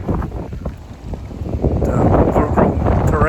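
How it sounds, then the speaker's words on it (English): Strong wind gusts buffet the microphone while hiking through overgrown terrain in Glenveagh National Park, a steady roaring rush that grows louder and more turbulent toward the end, with no talk over it. "it's getting very windy"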